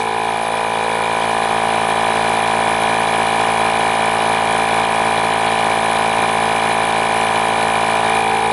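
A Milwaukee compact inflator runs steadily while pumping up a tire, giving a loud, continuous motor-and-pump drone with a constant pitch that holds unbroken throughout, close to the microphone, with no talking.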